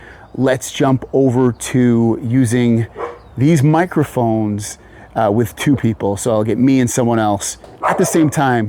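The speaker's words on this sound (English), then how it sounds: "You can probably hear my dog barking using these." A dog barks intermittently in the background, partly masked by continuous close-up talking during an outdoor microphone test.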